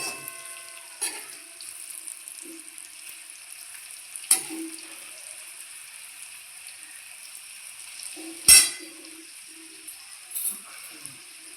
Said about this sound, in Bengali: দেখুন আলুটা বেশ ভালোভাবে লাল করে ভাজা হয়ে গেছে